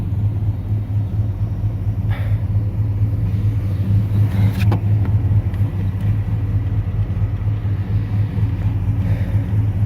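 A carbureted 5.3 V8 idles steadily in an OBS truck while still warming up, giving a constant low rumbling drone close by, with no talk over it.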